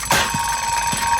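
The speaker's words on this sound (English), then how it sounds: "I like how Zane's the only ninja that is super unfazed by the alarm clock." A cartoon alarm clock in the Ninjago animated series rings loudly and continuously, a steady metallic jangle filling the whole short stretch with no voices.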